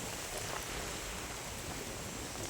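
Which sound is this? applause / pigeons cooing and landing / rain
rain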